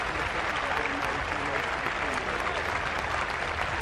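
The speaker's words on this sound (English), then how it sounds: "Crowd just showing their appreciation," A stadium crowd applauds steadily at a women's rugby World Cup match between USA and Italy, a dense, continuous wash of clapping that holds at an even level throughout.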